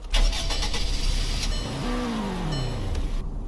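A car engine starting in the Roblox game Greenville, a 3,740-pound all-wheel-drive five-seat car, with a cranking burst followed by a steady idle and a falling whine, heard alone.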